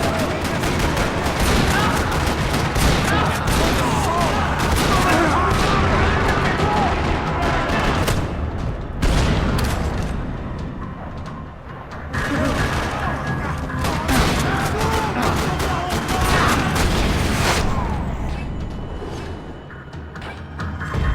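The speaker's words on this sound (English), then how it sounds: "Another parking lot rattling with gunfire." Heavy gunfire in a parking lot during a Max Payne video game shootout, with dense bursts and booms that run almost without a break at loud, steady intensity for about twenty seconds.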